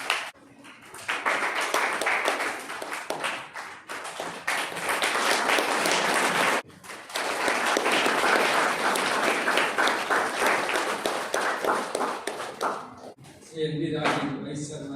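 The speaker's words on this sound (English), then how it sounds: "Give me a big applause." Enthusiastic audience applause at an Intellectual Property Day celebration at NIT Calicut following an award announcement, loud and sustained, broken by a couple of short gaps, with a voice and some tones near the end.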